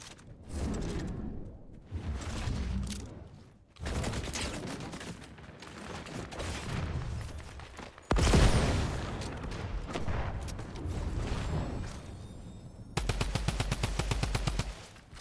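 Video game gunfire in Fortnite Zero Build comes in repeated rapid automatic bursts with short gaps between them, loud and close. A sharp heavy blast lands midway, and a fast rattling volley closes the sequence.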